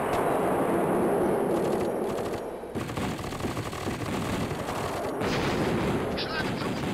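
Rapid weapons fire from mutant units in the real-time strategy game KKND crackles continuously at close range, a dense, steady barrage of gunshots with a brief lull midway, no voices over it.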